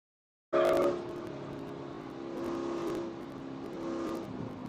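A Spec Corvette race car heading out onto a racetrack cuts in suddenly and stays close, its engine droning with a steady tone that swells and eases as it rolls along.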